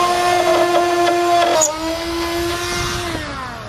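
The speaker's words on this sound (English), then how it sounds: "So I'm gonna start with a pilot hole." Power drill boring a pilot hole in a fiberglass car hood, a loud close whine that holds steady, then drops in pitch as the bit bites and slows.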